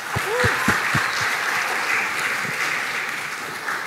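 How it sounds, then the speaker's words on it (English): At an international academic conference, an audience applauds in a steady patter of clapping, with a few brief voice sounds near the start. "Give applause."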